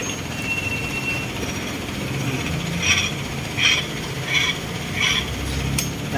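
A motorcycle shaft drive with its gears turning without gear oil gives a steady grinding whir with faint rhythmic high metallic squeaks repeating about once every 0.7 seconds, close and continuous with no talk.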